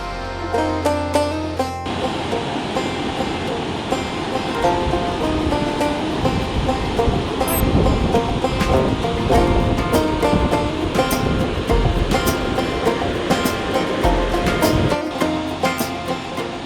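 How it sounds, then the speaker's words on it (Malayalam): Chamje waterfall on the Annapurna Circuit trek in Nepal: a loud, continuous roar of rushing water that fills the scene without a break. "ഈ ഒരു റൂട്ടിൽ ഒരു ഫേമസ് വാട്ടർഫോളാണ്"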